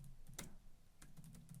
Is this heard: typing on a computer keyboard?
yes